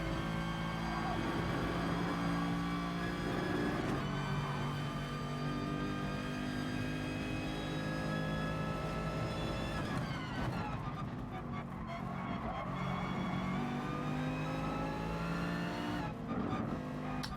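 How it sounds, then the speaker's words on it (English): Mercedes GT race car in the GT Sport racing game, its engine droning steadily with harmonic whine rising and falling through gear changes and corners, continuous and close throughout. "Yeah, I'm driving the Mercedes."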